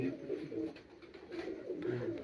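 Pigeon cooing on a rooftop loft in Punjab, a soft low rhythmic coo repeating several times at moderate distance over faint background noise.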